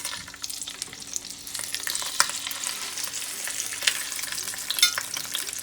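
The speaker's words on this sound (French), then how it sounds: "Je vais pouvoir maintenant la mettre dans un petit peu d'huile d'olive, dans la cocotte, pour la faire dorer." A guinea fowl browns in a little olive oil in a cocotte, giving a steady, moderately loud sizzle with scattered sharp crackles and pops throughout.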